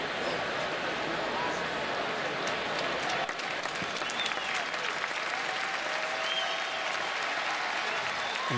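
Ohio State fans in a stadium clapping during a college football game against Nebraska, a continuous dense wash of applause throughout with a faint murmur of crowd voices.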